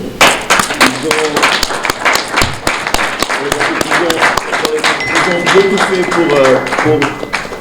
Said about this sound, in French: Je veux bien que tous les combattants se lèvent pour qu'on les applaudisse